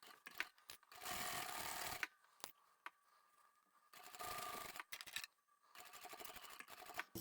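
A sewing machine runs straight stitching along a seam of a lined drawstring backpack in several quick whirring bursts separated by brief pauses, close and clear with no talking.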